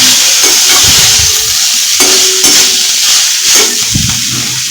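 Kolhapuri misal masala being stirred and mixed in a hot pan, a loud continuous sizzle and hiss with repeated scraping strokes of the spoon, close up and without talking.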